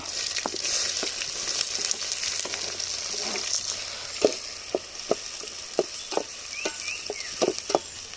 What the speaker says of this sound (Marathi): तेल गरम आहे खूप लगेच भाजून जाईल हा चिरलेला कांदा